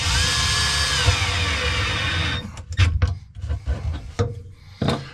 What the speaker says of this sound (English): take my drill, and we just put a screw in